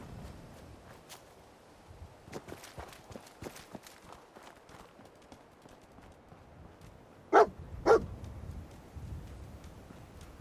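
Dog companion in Fallout 4, padding and moving about amid faint game ambience, with two short, louder bursts near the end that could be a bark or a sharp game sound.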